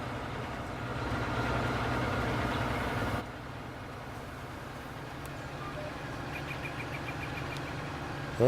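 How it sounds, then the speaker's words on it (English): A tractor idles with its implements still running in Farming Simulator 19, a steady mid-low engine drone that drops slightly in level partway through and keeps droning, with faint ticking above. "Never leave your tractor implements running, just saying, when you're not in the vehicle."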